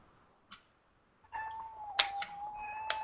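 Domestic cat giving a few short meows, faint at first and then closer, over low household background noise.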